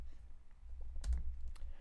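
A single press of the space bar on a computer keyboard during an OpenGL C++ demo, a brief soft click standing out from a quiet low hum.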